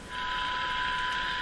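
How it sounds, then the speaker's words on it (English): A steady, continuous electronic tone holds at one pitch, clean and unbroken, with a faint hiss beneath it. "now that sound is my signal generator."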